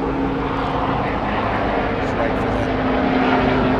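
A Sea King naval helicopter passes overhead near a historic warship in Portsmouth, a loud, continuous broadband roar with a steady drone, filling the whole clip.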